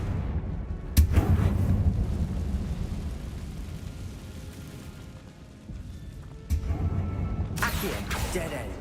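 Confringo blasting spell explosions in the Hogwarts Legacy video game: a loud, booming burst early on and further blasts later, over a steady rumbling game backdrop.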